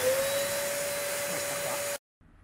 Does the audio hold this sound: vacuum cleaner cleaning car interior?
yes